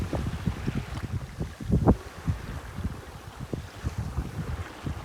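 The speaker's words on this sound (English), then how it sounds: "Very gentle breeze." Gentle breeze and low wind rumble over the microphone aboard a singlehanded sailboat heading to Victoria, B.C., in early December, with soft water sloshing against the hull in uneven pulses, close and steady.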